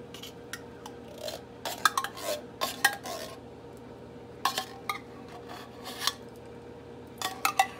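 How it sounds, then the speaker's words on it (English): Cream of mushroom soup is dumped into a bowl and mixed for macaroni and cheese. A utensil scrapes and clinks against the bowl in irregular bursts, close and fairly crisp, with short pauses between strokes. "I'm going to dump my cream of mushroom into this bowl."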